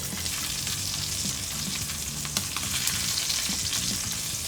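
A steak fries in a stainless steel pan with a continuous, close hiss and crackle. The sizzle holds steady throughout, with a few sharper pops, and no voices.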